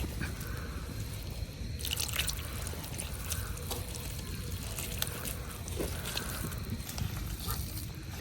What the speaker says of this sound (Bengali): এখন সব কিছু একটু একটু পানি দিয়ে ভালো করে মাখাই নিয়াম